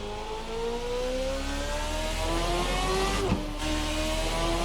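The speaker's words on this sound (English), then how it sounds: "Bring the revs up and start bringing the clutch out." Formula RSS 2013 V8 race car engine in a racing video game, revving steadily with rising and falling harmonic whine, a brief sharp blip near the end, loud and continuous with no talk.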